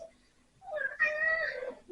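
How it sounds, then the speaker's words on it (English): A pet cat meows once, a drawn-out, fairly close cry that rises and holds in a quiet room, with no talking. "That's my cat."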